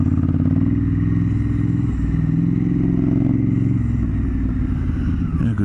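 A motorcycle climbing a steep mountain road in high country, its engine droning loud and steady close by with wind noise and slight rises in revs, no talking.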